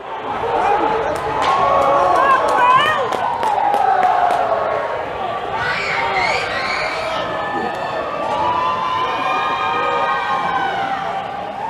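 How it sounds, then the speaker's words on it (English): Loud crowd roaring and cheering at a high school hockey game in Foxboro right after a home goal, sustained and dense with whistles and shouts throughout, with an announcer's voice talking over it. "this loud Foxboro crowd has something to cheer about"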